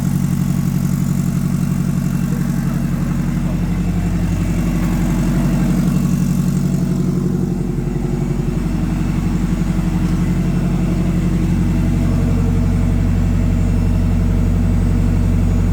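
A Mazda RX-7 rotary engine, just fitted with a new alternator, runs at a steady idle for several seconds, loud and close, with a continuous low rumble and no speech.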